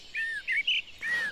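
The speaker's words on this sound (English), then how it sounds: "you will hear lots of different birds singing a dawn chorus" Birds singing a dawn chorus in a wood at first light, several clear, close whistled chirps and sweeping notes in quick succession, loud and alone with no talk.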